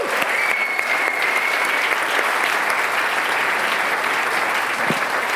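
Audience applause welcoming high jumper Carlo Thränhardt onstage at a talk evening, a steady, dense clapping from a sizable crowd that fills the whole stretch without letting up.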